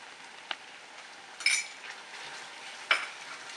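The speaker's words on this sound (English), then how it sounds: "We're going to cook this masala till we see the oil separate" A masala spiced with garam masala cooks in a pan. Soft, faint sizzling runs underneath, broken by a few sharp clinks of a utensil against the pan, with no talking.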